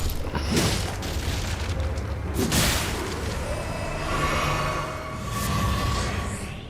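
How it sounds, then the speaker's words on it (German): Deep rumbling booms and bursts rolling continuously, a loud explosion in Elden Ring with a heavy low-end roar and crackling debris. "Explodiert natürlich."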